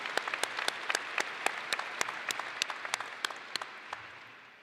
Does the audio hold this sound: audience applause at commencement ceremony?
yes